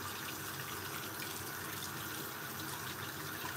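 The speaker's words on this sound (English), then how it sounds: "running the blade under some really hot water" Hot tap water running over a straight razor blade at a sink, a constant close, bright rushing stream with no pauses or voices.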